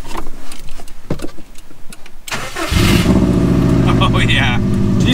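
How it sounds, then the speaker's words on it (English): A 2003 Subaru WRX that had sat for a year cranks for a moment then fires up and settles into a loud, steady running engine close by, following a stretch of quieter rustling and background noise. "We'll still start her up. No. I'll give her a bit of gas."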